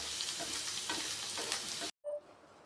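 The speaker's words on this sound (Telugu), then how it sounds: "అందుకే కొంచెం హై ఫ్లేమ్లోనే పెట్టుకొని ఇలా ఫ్రై చేసుకోవాలండి" Okra fries and sizzles loudly in a pan over a high flame, with a steady hiss and scraping stirring strokes, before a sudden cut to quiet.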